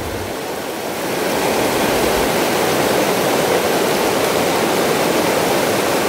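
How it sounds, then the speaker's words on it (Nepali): A flooded Seuti river near Dharan rushes in a loud, steady roar of churning water, close and unbroken, with no voices over it. "यसरी खोला तर्दै हुनुहुन्छ।"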